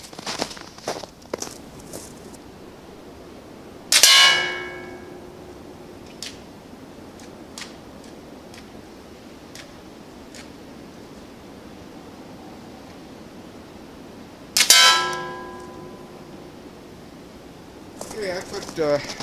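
A Daisy Powerline 35 air rifle firing pellets at a metal target outdoors, two sharp ringing metallic pings several seconds apart, each decaying quickly, among faint scattered clicks and background hiss.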